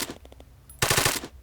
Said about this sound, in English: if we shoot these dudes